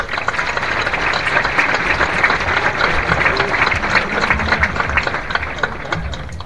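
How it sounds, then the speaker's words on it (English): An audience at a high school graduation breaks into sustained applause for the principal, dense clapping from a large crowd filling the hall at steady loudness. "Now please give a warm round of applause to our principal"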